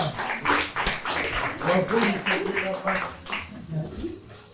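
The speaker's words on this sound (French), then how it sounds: "On peut applaudir aussi les caméramans et vous-même." An improv-show crowd in a Paris bar keeps clapping for the camera operators, a dense, even spread of many hands with a few voices calling out over it throughout.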